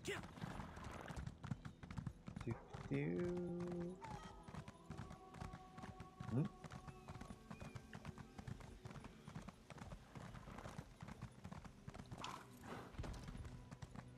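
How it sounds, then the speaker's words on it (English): Steady clip-clop of a plain brown horse's hooves while riding in the Elder Scrolls Online game, a continuous rhythmic trot with a brief whinny early on and scattered game effects in the background. "We're riding. Plain brown horse."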